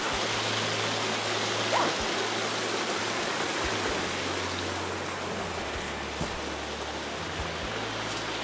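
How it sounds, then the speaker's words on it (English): A creek tumbles through an overgrown canyon over a series of medium-sized waterfalls, giving a steady, broadband rush of falling water that stays loud and unbroken throughout, with no voices. "This section of creek is made up of three or four medium-sized waterfalls that take careful navigation to get around."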